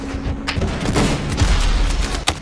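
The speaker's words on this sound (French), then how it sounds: "Grenade aveuglante" A flashbang grenade and gunfire in the video game Battlefield Hardline, a loud, dense burst of blasts and rapid shots filling a couple of seconds, with a sharp crack near the end.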